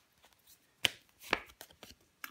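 A tarot card is laid down over the High Priestess card in a quiet reading, producing two distinct soft slaps of card on card at close range, with faint shuffling rustles around them and no talk.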